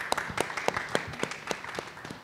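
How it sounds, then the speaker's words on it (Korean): Scattered hand claps from a small audience at a 2022 agri-food business talk session at Coex, welcoming the next presenter. The claps come sparse and uneven, several sharp slaps spaced about a third of a second apart, at moderate loudness with no talk over them. "환영의 박수 부탁드립니다."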